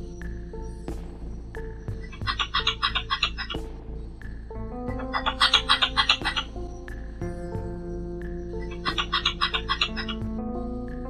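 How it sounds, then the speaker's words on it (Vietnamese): Recorded mating call of a female red-bellied squirrel, played back: repeated bursts of rapid, high chattering squeaks arriving in three clusters a few seconds apart over a steady background hum, with no talking. "Đây là tiếng sóc bông dạ đỏ, sóc bụng đỏ đuôi bông."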